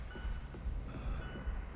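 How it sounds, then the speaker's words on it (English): In the VR shooter Sweet Surrender, the low-health warning beeps in a steady repeating pulse, several evenly spaced tones over a low background rumble. "Oh, my health's beeping."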